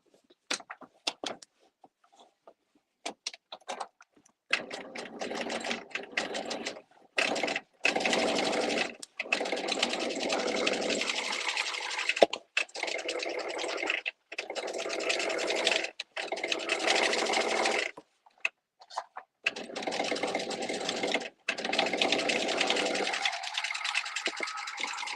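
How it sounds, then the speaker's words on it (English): A sewing machine top stitching close to a seam on a garment, running in repeated bursts of steady whirring separated by short pauses and quiet handling sounds. "Now I'm going to top stitch close to the seam."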